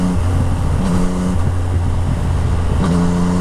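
A 2014 Yamaha MT-09 motorcycle with a full Akrapovic exhaust, running close and loud with a steady engine drone and rising and falling revs under throttle.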